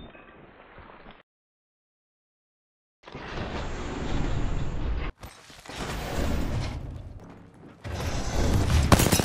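Sliding door in Apex Legends, sounding as several loud mechanical whooshing and grinding stretches separated by a gap of silence, with a short break before the louder final motions.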